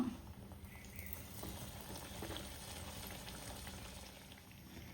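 Neyyappam, a sweet fried snack, sizzles in hot oil with a soft, steady crackle and bubbling, fairly faint and unbroken, with no talk.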